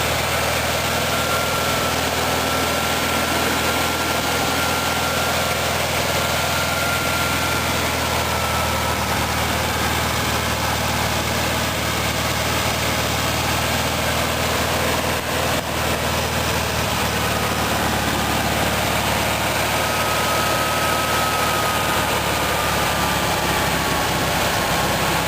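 A 1956 Ziegler fire brigade water pump with a VW industrial engine runs steadily at idle, a loud continuous low rumble with constant vibration and no break for the whole stretch.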